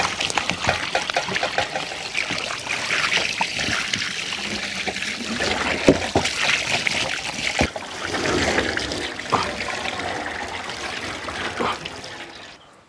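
Water pours and trickles steadily over pieces of lamb meat as they are washed outdoors, with continuous splashing and dribbling, occasional sharper splashes and handling knocks, close and moderately loud with no talk.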